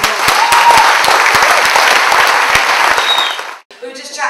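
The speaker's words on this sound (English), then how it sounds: "So I think you should all give yourself a bit of a round of applause." A round of applause at an Equality Movement meeting, loud close clapping with sharp individual claps, cutting off abruptly before a voice starts speaking.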